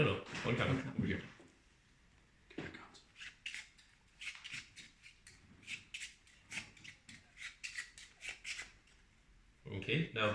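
Playing cards are shuffled in a rapid riffle of crisp, close flicks and taps, the bursts repeating in a steady rhythm, with people talking at the start and end.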